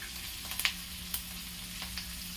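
Curry leaves, green chillies and mustard seeds sizzle in hot oil with asafoetida, a soft steady frying hiss punctuated by a few sharp pops and crackles.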